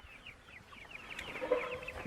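Barred Rock chickens cluck softly at a distance on a homestead, a string of short faint calls over quiet background noise.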